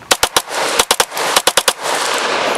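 An MPA 30 9mm gun fires several loud, close, sharp shots in quick bursts of two and three, with echoing reverberation outdoors on a kayaking outing.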